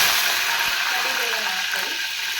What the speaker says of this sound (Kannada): ಆ ಸಾಸಿವೆ ಚಟಪಟ ಅಂತಿದೆ